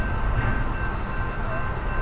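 Steam locomotive 2926 standing hooked up at a shed, giving a steady low rumbling hiss with a faint high whine, continuous and fairly close.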